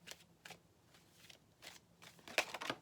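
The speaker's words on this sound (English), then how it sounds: "3 shuffles and we'll get to the tarot." Tarot cards shuffled by hand in a quiet room, a handful of soft riffling bursts spaced apart, growing louder and crisper toward the end.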